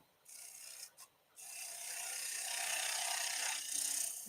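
A gouge takes a light skimming pass across a wooden three-cornered bowl spinning on a lathe, giving a steady scraping, rasping hiss that starts after a few short bursts, holds continuously, then swells briefly near the end.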